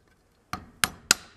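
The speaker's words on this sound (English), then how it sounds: "I'm going to come in here with a screwdriver and a hammer and just start tapping" Three sharp metallic taps, evenly spaced and close, as a hammer drives a screwdriver into the seam of a GM power door lock actuator held in a vise to pry its case apart; quiet room otherwise.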